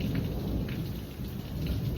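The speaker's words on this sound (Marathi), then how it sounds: "गडगडता मंडळी." Monsoon rain falls steadily on surfaces while thunder rumbles low beneath it, a continuous dense wash of drops heard without voices.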